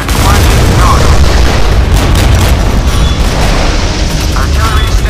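Artillery fire and explosions in the Modern Warships naval video game, a loud, dense rumble of booms sustained throughout, with voices speaking over it.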